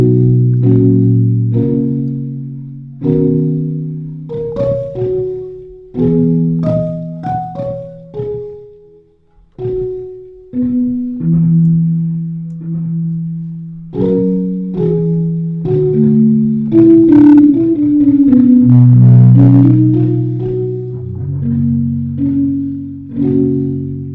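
A pillow recording stretched, octave-shifted and given boosted resonance with effects in Ableton Live, forming sustained pitched tones that step through a slow melodic sequence, loud and continuous with no voices.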